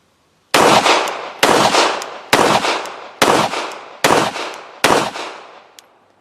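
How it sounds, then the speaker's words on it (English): Girsan MC 14T blowback pistol, a Beretta Model 86 tip-up barrel clone, fired six times in a steady rhythm, each loud sharp crack followed by a short decaying echo, with no talking. "Smooth shooting. It is a blowback design, so you're getting a little bit of recoil"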